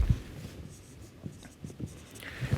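Pen or chalk scratches out a gas turbine calculation during an engineering lecture, with faint, intermittent writing strokes and soft taps in a quiet room.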